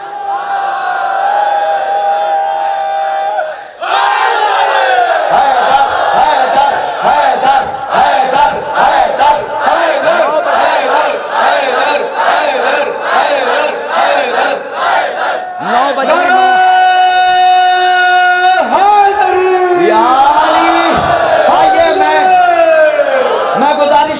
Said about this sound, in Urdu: نعرے بھی لگا دیا کریے, وہ حیدر حیدر کی گونج کہاں گئی.